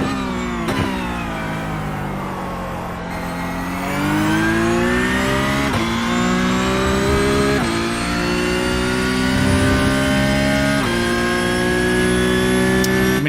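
A Porsche Cup race car in iRacing revs hard and steadily, its engine note rising through the gears with brief dips at each shift, loud and close throughout with no talking.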